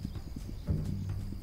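Horse hooves clip-clop in a steady quick rhythm at moderate distance, continuing throughout with little else around them.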